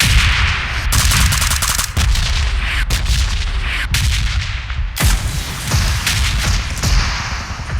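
Gunfire in PUBG Mobile rings out as a series of loud, heavy shots spaced about a second apart, with booming reports and echoing tails over constant game noise.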